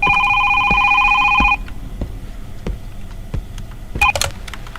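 A telephone rings in a horror video game, a loud electronic double-tone ring that cuts off after about one and a half seconds, then sparse clicks and a short second burst of ringing near the end.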